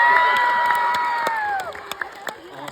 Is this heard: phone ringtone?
no